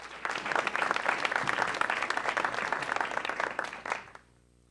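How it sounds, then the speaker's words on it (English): An audience gives a round of applause for the UNC Asheville Big Band and its director: dense, loud, sustained clapping from a full crowd that cuts off abruptly after about four seconds. "Let's have another round of applause for Dr. David Wilkin and the UNC Asheville Big Band"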